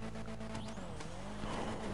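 A car engine in GTA 5 starts up with a whining, jet-like tone. The burst is brief and fairly faint, with engine harmonics shifting over a steady mechanical hum.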